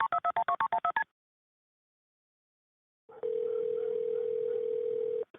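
A rapid sequence of telephone keypad tones beeps out an emergency 911 number, followed by silence and then a long, steady ringback tone on the line.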